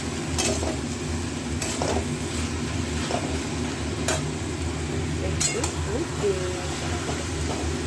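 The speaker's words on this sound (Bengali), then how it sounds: "এটা চিংড়ি মাছটা একটু থাক ভেজে" Prawns fry in a pan with a continuous, moderately loud sizzle and hiss, punctuated by occasional sharp scrapes and knocks of a utensil against the pan.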